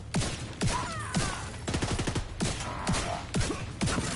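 Sniper and rifle fire from The Division 2 crackles in loud, repeated sharp bursts spaced about half a second apart, one volley after another across the whole stretch.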